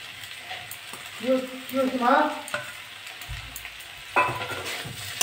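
Eggplant is stir-fried with crushed fried neem leaves, a soft sizzle broken by scraping, clattering stirs against the pan, a brief voice partway through, then a louder burst of frying toward the end.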